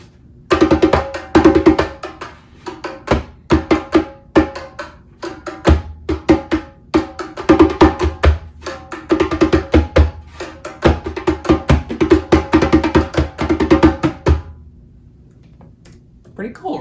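A hand drum plays a busy pattern mixing three rhythmic ideas, quick slaps and tones in dense clusters with brief gaps, close and loud, before stopping into quiet near the end.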